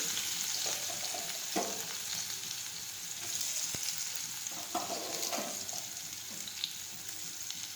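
Chopped onions fry with curry leaves in a pan for urad dal, a constant moderate sizzle with a few scattered stirring scrapes and taps, and no one speaking.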